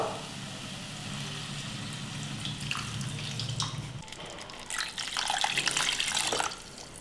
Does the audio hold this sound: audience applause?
no